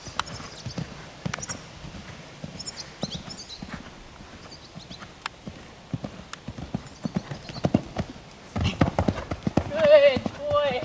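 Horse hooves thud in an irregular rhythm over a bareback jump course, building into a quicker, louder stretch near the end, while people talk intermittently.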